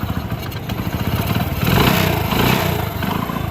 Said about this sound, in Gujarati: ફિટિંગ કરીને તમને એનો અવાજ આપણે સંભળાવશું કે એન્જિન કેવું બન્યું છે